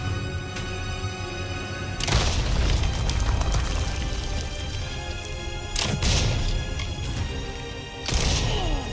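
Gunshots and heavy impact booms from Resident Evil 4 burst out in several loud hits, over a continuous game soundscape and music.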